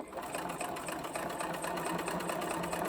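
Sewing machine top stitching down a bucket hat seam, a steady rapid mechanical chatter running continuously and close, with no talk.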